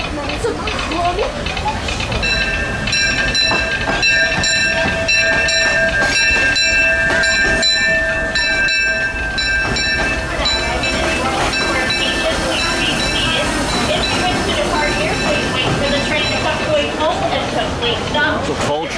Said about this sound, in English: It's a full train.